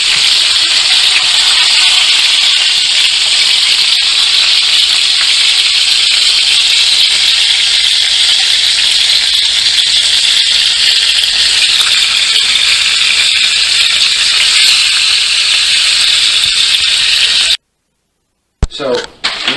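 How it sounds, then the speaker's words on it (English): Kerrygold Irish butter sizzling in a hot pan with a nearly finished steak, a loud, steady, close hiss and crackle that holds throughout and then cuts off abruptly near the end. "the last thing I'm going to add to the steak, just because it's almost done, is pure Irish butter"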